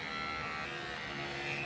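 Electric clippers buzz steadily and close-up while trimming a pet's hair, a continuous motor drone with no breaks and no voices.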